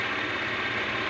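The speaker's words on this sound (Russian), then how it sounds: "Завел этот комиссионный скутер. Двигатель отлично работает." Scooter engine fitted with a Euro 4 carburetor, recently cleaned and running well, gives a brief, steady, close-up idling buzz with a fast mechanical rattle and no talking.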